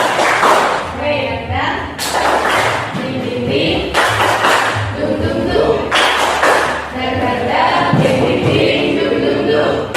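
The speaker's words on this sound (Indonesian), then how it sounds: "Tepuk semangat." A class claps a patterned spirit clap in a steady rhythm, loud and close, with bursts of accented claps repeating over several seconds.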